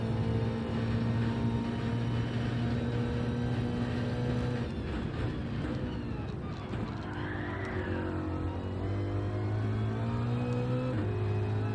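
A racing car engine drones loud and near in a game race on Trial Mountain Circuit, holding steady, then dipping and climbing in pitch as it shifts through gears, with a brief whining sweep partway through.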